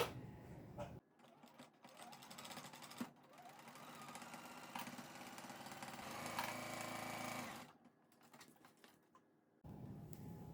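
A sewing machine stitches a quarter-inch seam on an improv scrap-fabric pillow cover, running with a steady, fast mechanical whir for several seconds. The machine starts and stops abruptly, with quiet pauses on either side.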